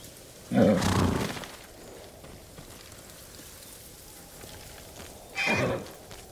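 Kage, a horse in the video game Ghost of Tsushima, gives two loud neighs a few seconds apart over steady rain-like ambience.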